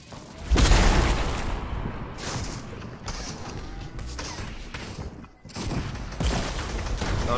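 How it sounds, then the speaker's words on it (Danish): Gunfire crackles in a Fortnite match, with a loud burst of rapid shots up front followed by repeated bursts and booms of varying distance, mixed with clattering game effects throughout. "Ja, de skyder mig."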